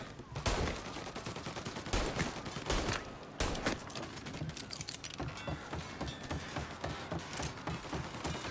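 Allied gangsters shoot at enemies in the remade 1930s crime action game Mafia Definitive Edition, a rapid, steady volley of gunshots with repeated sharp bangs and a few louder bursts throughout.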